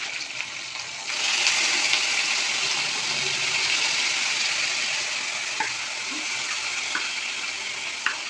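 Spice paste of cumin powder, coriander powder and ginger paste hits hot oil for a jackfruit curry, with a steady loud sizzle and hiss that stays constant throughout, plus a few faint clinks.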